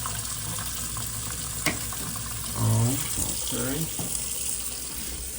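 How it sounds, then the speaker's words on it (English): A kitchen sink tap runs in a rental property, its steady water hiss sitting under a brief spoken word and some faint handling noises throughout. "Just come over to our sink, that's still running good."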